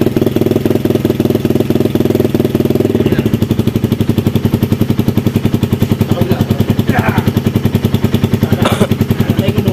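A Kawasaki NS200 motorcycle engine with a fault runs close and loud, sputtering in a fast, uneven chugging pulse that dips in pitch partway through and continues without steadying.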